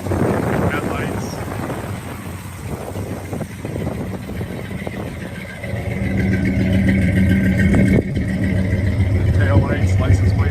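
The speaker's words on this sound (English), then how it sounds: "there you can hear the engine, sounds good. Runs nice and smooth" A muscle car engine with headers and dual exhaust idles smoothly in a steady low rumble that grows slightly louder midway, with a person talking over it.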